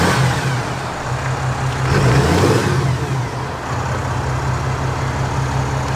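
A Cummins diesel truck engine idles with a deep, steady rumble, then revs up once and settles back to idle, heard close with no talk.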